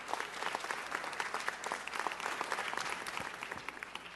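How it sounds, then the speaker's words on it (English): At a city council meeting, the audience applauds to honor Homeless Healthcare LA on its 30th anniversary, a soft and fairly distant spread of many hands clapping that carries on steadily with no voices. "Let's give them a big round of applause."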